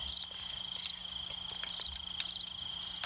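Crickets chirp at night in a Roblox camping game, in steady repeated bursts of high trills over a faint constant hum, with no talk.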